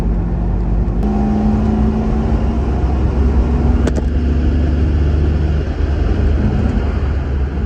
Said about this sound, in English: Okay, Supercharger works.